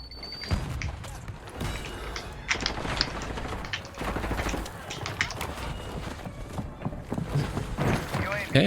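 Rapid gunfire bursts from Call of Duty Warzone play in repeated sharp volleys across the whole stretch, mixed with game effects while a player talks throughout.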